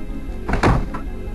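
A door opens in the survival horror game Parasite Eve II with a single heavy, close thunk standing alone against quiet background ambience.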